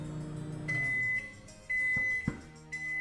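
A low microwave hum runs throughout while the microwave's timer, being set for cooking bacon, gives a steady electronic tone in three separate stretches, followed by a couple of soft clicks.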